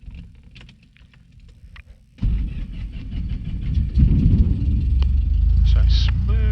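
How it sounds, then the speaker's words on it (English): Light aircraft piston engine cranking and catching at a small airfield, a sudden loud onset that builds to a steady, close, rumbling run. "put the key in the starter, Louise, and turn it to the start position"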